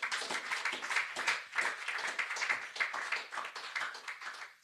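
Congregation in a church clapping and applauding for the Lord, a dense, steady wash of many hands throughout with slight swells, fairly close and without speech.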